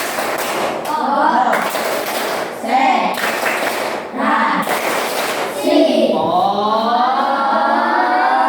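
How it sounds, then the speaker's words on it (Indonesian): A classroom of students performs a rhythmic concentration clapping routine, loud group claps in patterned bursts with chanted voices in between, closing with a sustained sung or called-out phrase. "Coba tepuk konsentrasi."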